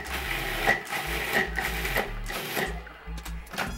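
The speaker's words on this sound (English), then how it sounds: "I'm just gonna use my food processor to mix that up" A food processor pulses and churns taco nut meat in short whirring bursts with brief pauses between, close and moderately loud, the blade chopping the nut mixture in an uneven rhythm.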